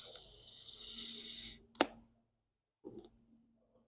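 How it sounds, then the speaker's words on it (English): A can of nitro pastry stout is cracked open slowly: a sharp metallic snap, then a brief fizzing hiss before a pause and a faint later rustle, close and with no talking. "Then you wanna crack it slowly."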